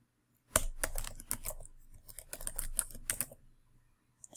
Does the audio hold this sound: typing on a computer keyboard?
yes